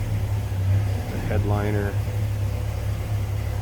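A 1972 Chevrolet C10 Cheyenne pickup idles with a steady low engine rumble throughout, and someone talks briefly over it.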